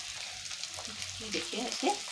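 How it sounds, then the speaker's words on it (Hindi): Chopped onions and peas fry together in a pan while being stirred, making a steady close sizzle with scraping, and a voice speaks briefly over it. "देखिए इसको ऐसे हम चलाते रहेंगे कि प्याज जले नहीं, गोल्डन ब्राउन हो जाए।"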